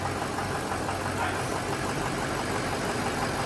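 A 6-liter engine running just after starting, with oil drained from its top oil rails; a steady, dense idle with a knocking rattle, close and continuous.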